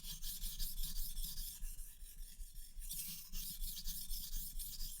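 Steady back-and-forth rasping of a knife blade being sharpened on a 1000 grit whetstone with a Nagura stone, a continuous gritty scraping that swells and dips in rhythmic strokes, close and alone.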